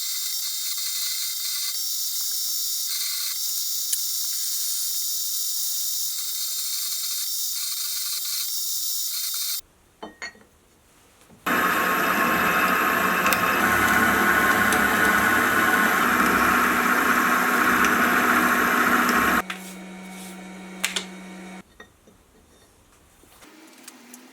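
Metalworking sounds from drilling and tapping holes in small steel pieces for a jack plane frame: a long steady machine whine, then a louder, harsher grinding stretch, then shorter mechanical noises and clicks near the end.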